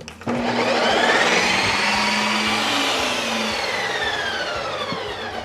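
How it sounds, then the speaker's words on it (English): A Ninja Creami machine spinning frozen butter pecan ice cream, a steady loud whirring motor with a sweeping grinding tone that holds throughout after starting abruptly. "Put it in the machine, turn it on, and hit light ice cream for our first spin."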